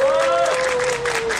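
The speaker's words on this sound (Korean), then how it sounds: "박수를 부탁드리겠습니다." Audience applause at a labor union solidarity rally: a short, dense burst of clapping close by, with a steady whistling tone running through it.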